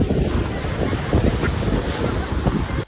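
Sea waves wash onto a sandy beach in a steady, loud rush, mixed with strong wind buffeting the microphone and no voices.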